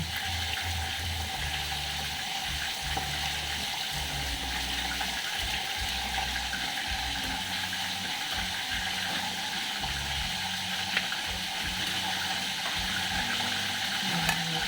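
Dried fish and chili dropped into a pan of tomato and onion, giving a steady, close, fairly loud sizzle with a watery, hissing texture throughout and no talk.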